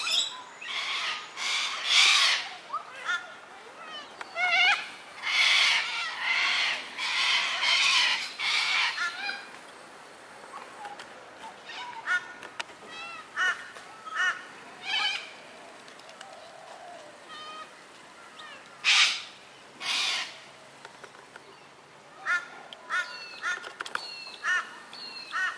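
Harsh squawking corella calls come in repeated bursts, some loud and others fainter, with quieter calls and gaps between them, on a lawn with ducks present.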